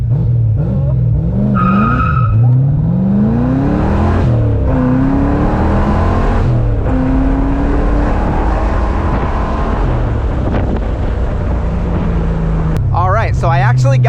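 A V8-swapped Mazda Miata accelerates hard from a standstill toward 60 mph, its engine rising loud and close through the gears with a shift partway and brief tire noise, while people talk inside the car.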